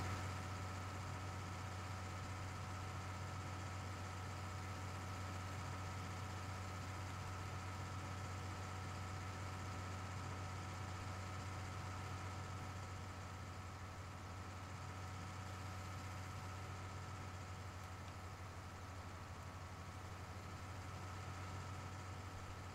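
A tractor engine idles steadily in Farming Simulator 19, a continuous low droning hum with a constant mechanical tone and no speech.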